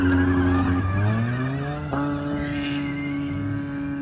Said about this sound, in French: It's a car electric, but it makes a lot of noise for electric.